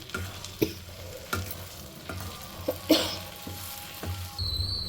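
Ginger and garlic frying in oil in a thick-bottomed kadai for gongura pickle, a soft steady sizzle broken by regular scraping stirs of a spoon, close and fairly quiet.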